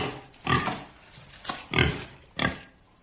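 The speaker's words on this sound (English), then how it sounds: "The governor's pig." A pig snorts and grunts in a radio drama, four short, close grunts spaced out over a few seconds, with quiet gaps between them and no speech.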